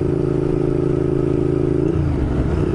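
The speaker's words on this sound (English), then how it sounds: "I love the sound of my bike, but yeah, it is loud" A loud motorcycle engine idles with a steady, throbbing rumble, dipping slightly in pitch near the end.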